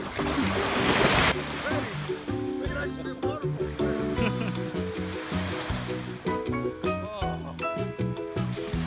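Ocean waves wash onto an empty beach on the Sea of Cortez in Baja, Mexico, with a loud surge of surf early on, then a continuous rolling wash beneath layered music and chatter.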